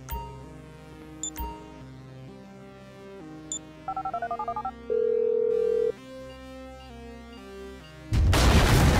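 Phone dialing in GTA V: a rapid run of short keypad tones, then one long steady tone, followed by a burst of loud game noise at the end.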